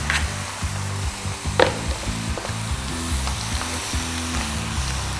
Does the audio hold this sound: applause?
no